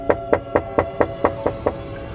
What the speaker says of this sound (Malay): terdengar ketukan di pintu rumahnya. Sekali lagi bunyi ketukan.